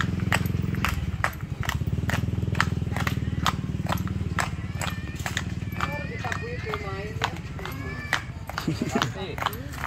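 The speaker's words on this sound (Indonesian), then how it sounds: "jadi kuda-kuda yang di sini umur 1 tahun setengah ini sudah mulai dilatih" Young horses about a year and a half old in training clip-clop steadily, their hoof strikes forming a quick regular rhythm under continuous talking.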